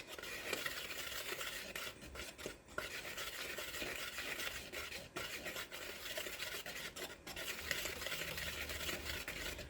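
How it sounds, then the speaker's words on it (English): Garlic knot dough ingredients are whisked steadily in a bowl, giving a soft, continuous scraping and stirring sound that stays faint and close throughout. "Now, all we want to do is we want to whisk this very well."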